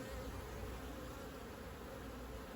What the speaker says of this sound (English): there's a lot of bees in this box already